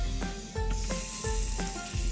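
Steady sizzling of okonomiyaki batter frying in hot oil, with a few soft scraping touches of a utensil against the pan.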